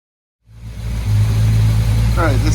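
A 454 Crusader starboard inboard boat engine with fouling spark plugs kicks in abruptly after a brief silence and settles into a loud, steady, close low-pitched rumble, with a short voice heard near the end.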